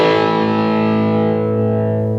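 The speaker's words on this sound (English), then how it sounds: "it's got a gritty, distorted sound" Electric guitar played with heavy overdrive distortion on a Chuck Berry style rock lick, a loud, thick, gritty chord that rings out and sustains alone, with no talk over it.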